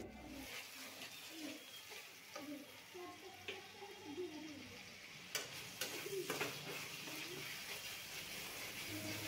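Spice paste with ginger-garlic, cumin, coriander and chili powder sautéing in oil for an egg and potato curry, a quiet sizzle with occasional stirring scrapes and faint bird calls in the background.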